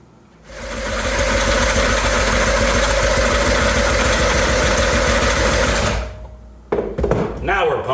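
A 1975 Briggs & Stratton 3 hp small engine is cranked over, giving a loud, steady rapid chugging for about five seconds that then stops, followed by brief handling noises and a voice.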